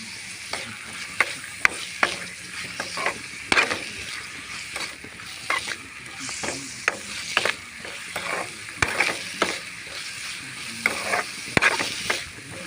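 Curry leaves frying with salt in a hot pan for egg semiya, giving a steady close sizzle broken by many sharp clicks and scraping taps of a spatula against the pan.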